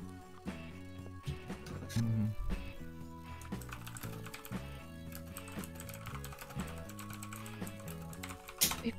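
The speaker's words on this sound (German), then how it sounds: "Mach noch lauter mit deiner Tastatur." Clicky, rapid typing on a loud computer keyboard, fairly close, with uneven bursts of keystrokes and short pauses, mixed with soft background tones and no voices.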